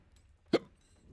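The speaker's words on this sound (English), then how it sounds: "How did I get such bad hiccups?" A single short, sharp hiccup, close and fairly quiet, stands alone against a faint, low background hum.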